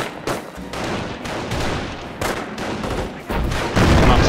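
Mortar and gunfire in a Company of Heroes battle: dense, continuous volleys of booming shots and blasts with sharp bursts every second or so, growing louder toward the end, with no voices.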